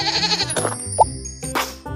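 A single goat bleat sounds in a children's animal-sounds game, a short wavering cry under a second long in the middle, with music and game sounds around it.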